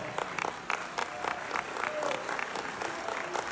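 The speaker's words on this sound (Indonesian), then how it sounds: "Kita tepuk lagi loh." An audience at a political stage event applauds with steady, moderately distant clapping that lasts throughout, with faint voices underneath.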